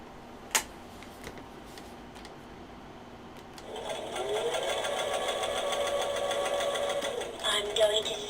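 A sewing machine sits quiet at first with a couple of faint clicks, then whirs to life and runs at a steady, rapid pace for about four seconds before stopping.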